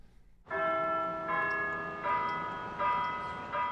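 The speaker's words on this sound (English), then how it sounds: "For whom does the bell toll?" A church bell tolls loud and resonant, several strikes about three-quarters of a second apart, each ringing on with a long sustained hum.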